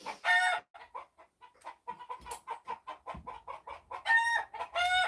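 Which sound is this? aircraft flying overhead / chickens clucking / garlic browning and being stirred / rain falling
chickens clucking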